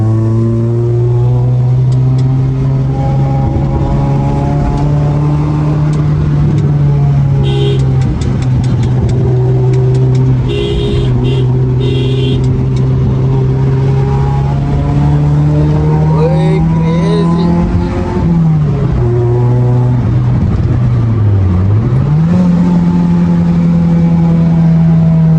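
A car driving over a rough, bumpy road, its engine a loud, steady drone with brief pitch dips as it lurches along.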